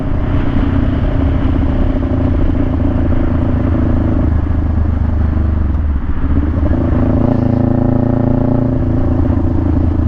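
A motorcycle engine drones loud and close, idling and then pulling away from a green light in first gear as the revs rise with a steady roar.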